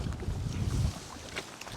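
Steady rumbling gusts of strong wind buffeting the microphone, with a low roar that swells and eases throughout.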